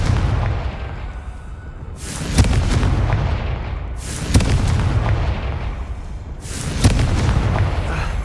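Three heavy Confringo spell blasts go off in Hogwarts Legacy, each a sharp booming burst that rolls into a long crackling decay, spaced a couple of seconds apart over a low rumbling game ambience, loud and without speech.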